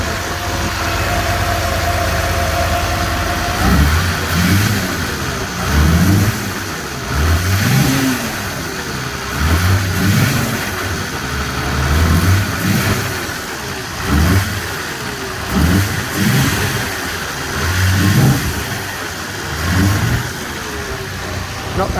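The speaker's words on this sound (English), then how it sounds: "when you rev it, it'll start up no problem when you rev it. It's backfiring back through the inlet." A Mercedes G-Wagon engine, fitted with a Reston PT8 warm-up regulator, is revved in repeated bursts over a steady idle, each blip rising and falling close by, with popping backfires through the inlet.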